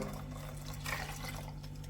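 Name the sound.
water being poured into curry paste in a pot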